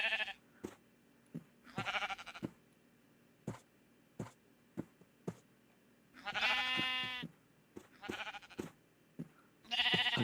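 Sheep in Minecraft bleat in several short, loud, wavering cries, spaced apart and mixed with scattered clicks and footstep-like taps from the game, with no talking.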